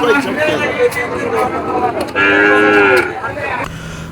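Cattle at the Bhangura cattle and goat market in Jashore let out a loud, drawn-out moo close by, layered over a steady murmur of market voices and people talking.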